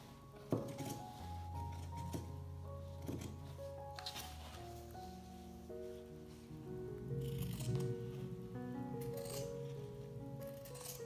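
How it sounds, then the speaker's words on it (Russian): Scissors snipping fabric along a zigzag outline while cutting out a Tilda monkey toy, with short crisp cuts and rustling cloth, close and moderately quiet. "Теперь вырезаю по контуру ножницами зигзаг."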